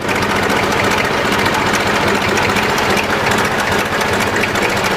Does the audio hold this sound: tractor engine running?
yes